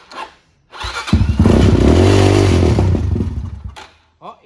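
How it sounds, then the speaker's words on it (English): A motorcycle engine just out of winter storage cranks and catches, a loud, rough, low-pitched burst of running that swells for about three seconds before cutting off, with brief faint sounds before and after. "You can do it by cranking the throttle like I just was"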